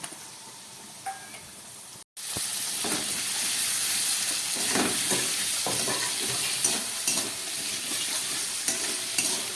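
Potatoes, onion and tomato fry in hot oil in a pan, starting with a quiet sizzle, then a short silence before a loud, steady frying hiss broken by scraping stirs and small clinks close by.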